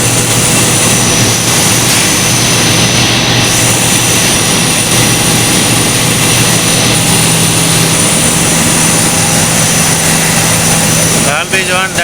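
Service air compressors run at a thermal power plant, a loud, constant mechanical roar with a steady hum that fills the whole space and stays unbroken throughout.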